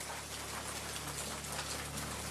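Steady rain pouring down in a Madagascar rainforest during the wet season, a dense continuous hiss of drops without pause, no voices.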